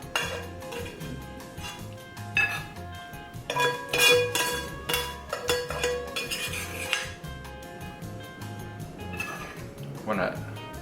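A big spoon heaping duck ragu with pappardelle into a wide bowl, with repeated metallic clinks and scrapes against the dish, while a person talks over the sounds.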